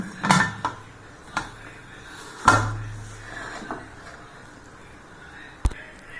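Lid closed onto a cooking pot while making a Christmas cake, a few sharp metallic clanks and knocks scattered across a quiet kitchen background, one louder clatter midway and a final crisp tap.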